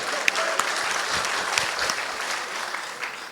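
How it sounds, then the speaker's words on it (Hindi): Audience applause at a mushaira poetry gathering in Jaipur, a steady crowd clapping with a few sharp louder claps and a voice briefly audible beneath it. "इनके लिए एक बार तालियां।"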